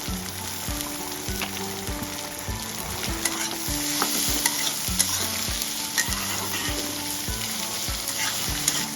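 Plenty of onions fry with bay leaves in oil for a vegetable dish, a constant crackling sizzle broken by regular scraping strokes of a spoon against the pan, close and fairly loud.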